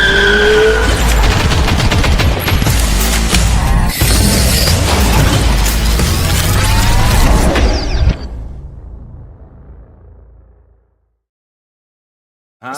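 Loud race car intro sound effect: a roaring engine with squealing tires and rapid gunfire-like bursts, sustained for about eight seconds before fading into silence.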